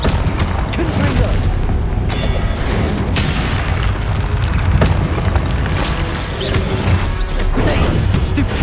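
Booming Confringo spell blasts from Hogwarts Legacy on PS5 go off in quick succession, heavy and loud over a continuous roar of combat noise with crashing impacts throughout.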